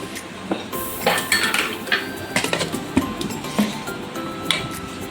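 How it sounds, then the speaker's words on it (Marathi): Spoon clinks and scrapes repeatedly against a bowl while yogurt is stirred into gram flour batter, an irregular run of sharp metallic taps up close. "हे चांगलं मिक्स करून घेते."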